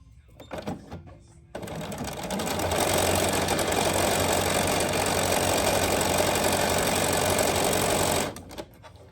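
Sewing machine stitching all the way around a fabric bag, a steady loud mechanical whir running for several seconds after a brief start, then stopping, with no talking.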